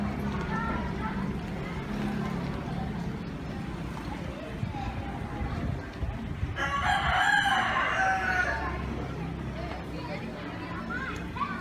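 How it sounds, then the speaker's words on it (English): Roosters crowing from cages beside a busy Sunday restaurant in Bali, one loud crow rising clearly midway with other fowl clucking around it, over steady crowd murmur and people talking nearby. "So here are the rooster cages."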